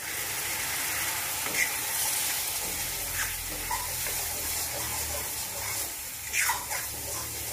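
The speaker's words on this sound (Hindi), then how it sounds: "जब मसाला भुना जाता है इसमें से तेल छोड़ने लगता है।" Steady, close sizzling of a spice masala paste frying in oil until the oil separates, with occasional stirring scrapes and soft crackles.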